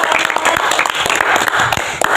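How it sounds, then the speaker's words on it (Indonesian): A group claps together during a group discussion session, a dense, continuous wash of applause that is loud and close throughout. "Oke, tepuk tangan dulu untuk kita semuanya."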